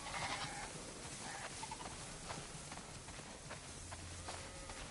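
Flock of sheep bleating in The Last of Us Part II, many animals calling over one another at a steady din, with faint hoof clatter in the mix.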